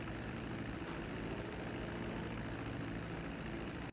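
A fixed-wing airplane touching down in GTA 5, its propeller engine droning loud and steady with a low rumbling hum throughout, cutting off abruptly at the very end.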